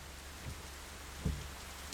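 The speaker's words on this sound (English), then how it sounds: "Now, if we go up, you will see how loud this rain gets." Exterior rain in the Assetto Corsa racing game gives a steady, fairly quiet hiss of falling drops, broken by two brief low thumps.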